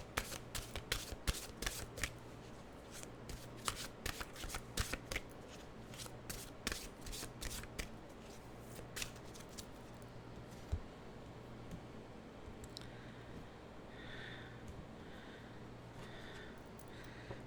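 Mystical wisdom tarot cards shuffled by hand, a rapid run of close, crisp riffling snaps that thins into softer sliding shuffles toward the end, quiet and alone.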